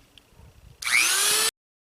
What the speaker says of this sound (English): I do have a little drill bit from my wife's Dremel kit, but it doesn't do all that well